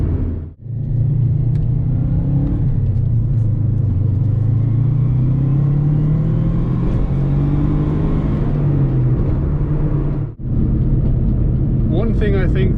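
An old Subaru WRX engine pulls hard under acceleration while driving, a loud steady rumbling drone that rises in pitch, briefly cut twice as if by gear shifts, with close interior road noise throughout.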